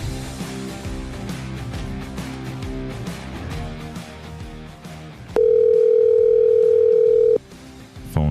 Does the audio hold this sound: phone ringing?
yes